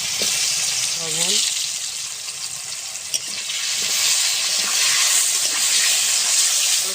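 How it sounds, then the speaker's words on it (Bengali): Potato pieces fry in hot oil in a pan, a steady loud sizzle and hiss that swells toward the end, with a brief voice early on. "আলুটা ভেজে নেব।"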